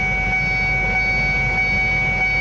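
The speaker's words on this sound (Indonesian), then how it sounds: "Kita lihat kereta yang datang dari arah Bekasi" A train rumbling past a railway level crossing in Kedunggedeh, Karawang, with a steady low roar and faint high whining tones, continuous and fairly loud with no voices.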